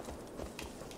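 Horse hooves galloping in the video game Assassin's Creed Valhalla, a faint, muffled run of quick clip-clops lasting about a second under a dense game soundscape.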